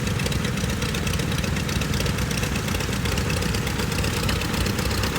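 A 1941 Allis-Chalmers tractor runs in a small-town tractor parade, its engine idling and chugging steadily and loudly up close, with a continuous low rumble and no talk over it.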